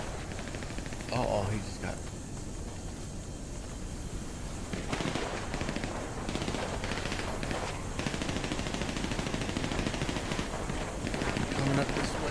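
Gunfire in GTA V Online during the Cayo Perico heist, rapid automatic bursts rattling on and off against a steady noisy background, with someone talking over the shooting.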